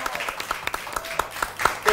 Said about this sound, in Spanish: Fuerte el aplauso para Nicolás también.